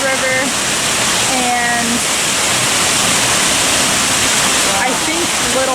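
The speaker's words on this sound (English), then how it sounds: "when it falls from the pipes into the pond, it's pretty aerated that way" Water pours from pipes into a pond at Cedar Creek Fish Hatchery, where steelhead are raised, making a loud, continuous rushing splash close by, with a voice briefly heard over it.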